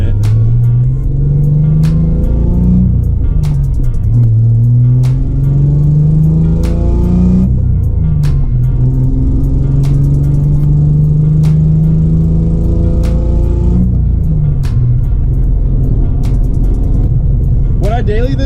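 A Nissan 300ZX (Z31) engine heard from inside as it drives, revving up and shifting repeatedly, loud and steady throughout with faint clicks.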